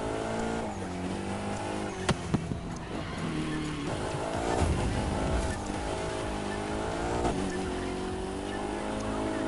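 Car drifting in The Crew 2, a loud engine revving and wavering in pitch while tires squeal through the slide, with a few sharp knocks early on and no voices.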